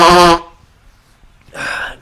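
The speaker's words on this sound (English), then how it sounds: "Excuse me, I must honk my nose." A person blows their nose loudly in one hard, honking burst, followed after a short pause by a second, softer blow.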